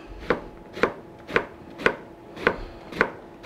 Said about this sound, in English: We're just dicing this up.